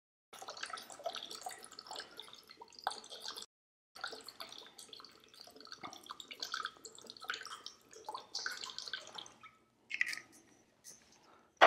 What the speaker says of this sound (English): We're gonna put in a half a cup of rice wine vinegar.